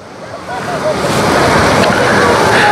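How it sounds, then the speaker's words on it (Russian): A park fountain runs in a large open square, its water splashing as a steady, fairly loud broadband rush that grows slightly louder and continues throughout, with a few faint background sounds mixed in. "Вот здесь, смотрите, у нас сегодня работает фонтан."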